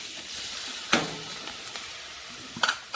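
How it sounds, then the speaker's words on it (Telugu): Chopped onions hit hot oil for gongura chicken and sizzle steadily, with a few clinks and scrapes of stirring against the pan, close and without talk. "వేసేసి ఇందాక మనం కట్ చేసి పెట్టుకున్నాం చూడండి ఉల్లిపాయలు"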